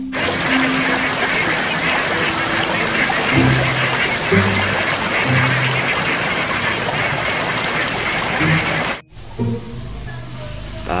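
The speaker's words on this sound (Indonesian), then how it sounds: "ada bebek teman-teman" Repeated duck quacks in Jurassic World Evolution 2 sound over a dense, loud background of game noise, then the noise cuts out near the end.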